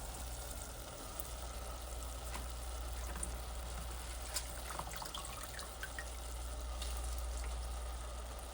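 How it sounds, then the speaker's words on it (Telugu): Water pours into a pressure cooker holding washed, soaked basmati rice, a quiet and steady splashing hiss that runs the whole time with no talking. "వాటర్ పోద్దాం తగినంత."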